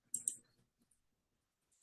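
A computer mouse gives two quick, close clicks in rapid succession in a quiet room, followed by near silence and a faint tick at the end.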